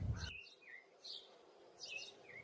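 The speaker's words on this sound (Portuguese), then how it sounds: "Sons da natureza, pássaros cantando, som de sino da igreja, atmosférico" Birds chirp and tweet in short whistled phrases at the start of a cinematic music video intro, with a low thump at the very beginning and quiet atmospheric background between calls.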